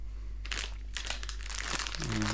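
An antistatic plastic bag holding parts for a Sovol SV06 Plus 3D printer crinkles and rustles in close, sharp bursts during unboxing, with a faint low hum underneath.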